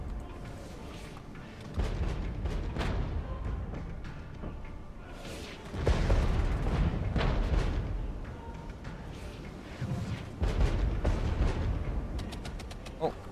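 Heavy artillery fire in the Regiments war game booms in several loud, deep blasts that swell and rumble across the battlefield, separated by quieter stretches of distant fighting.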